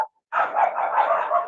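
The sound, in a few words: dog barking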